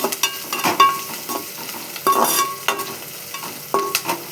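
Bottle gourd pieces fry in a pan with turmeric, a close, intermittent sizzle punctuated by repeated scraping and stirring knocks of a spatula.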